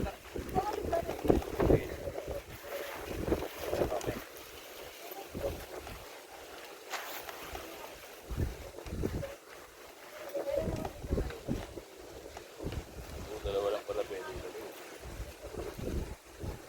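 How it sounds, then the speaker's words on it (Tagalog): Strong wind gusting across an exposed mountain campsite on Mt. Parawagan in Rizal, buffeting the microphone in loud, uneven bursts, with people talking intermittently through it. "Sobrang lakas ng hangin nito at natatakot akong matumba ang cellphone ko."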